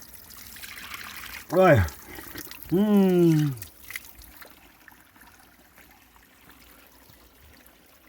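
A natural stream of water trickles and runs steadily outdoors in the background while a person speaks in short bursts over it.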